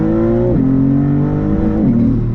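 A 2023 Maserati MC20 with a twin-turbo V6 under full-throttle acceleration, loud and close, its engine note climbing steadily with two quick drops as gears shift, and no voices.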